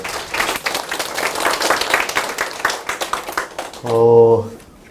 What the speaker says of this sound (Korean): 박수로 맞아주시기 바랍니다